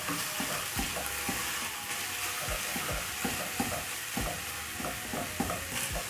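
Minced beef sizzles steadily in a pan while a spoon breaks it apart, giving close, rhythmic scraping and stirring knocks over the constant frying hiss; no talking.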